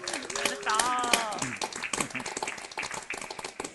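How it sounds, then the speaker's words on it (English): Audience applause at a live social VR event, scattered clapping close by with a voice speaking briefly over the start before the claps carry on alone. "A round of applause for Menethol in world and in the physical room."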